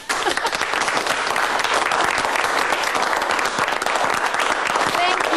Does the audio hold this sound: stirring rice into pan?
no